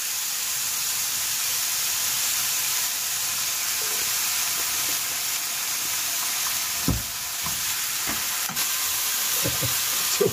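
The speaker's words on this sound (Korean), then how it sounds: "자, 그리고 고기를 조금 볶아야 되겠죠?" Meat with seasoning sizzles steadily in a hot pan, a soft continuous frying hiss broken by a few clinks and scrapes of stirring, with no talking.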